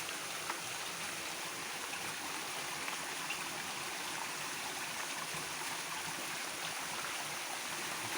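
A strong stream of water rushes continuously, a dense, steady roar of flowing water close by with no breaks.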